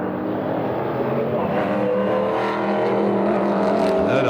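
Sports GT race cars, including a TVR, De Tomaso and Marcos, roar past at Silverstone, engines loud and continuous with rising revs, while a commentator talks over the racing.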